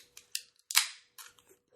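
A beer bottle being opened: a few quiet sharp clicks and a crisp hissing pop of the cap coming off, followed by small clinks, with no voices.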